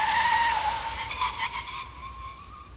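A Mercedes-Benz with ABS brakes hard, its tires squealing loudly in a continuous, wavering screech that holds steady and then fades slightly over a few seconds.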